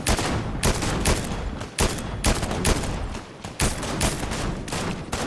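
Sniper rifle fire crackles in a duos shooter match, about a dozen loud, sharp shots at uneven intervals, close and dominant with no talk between them.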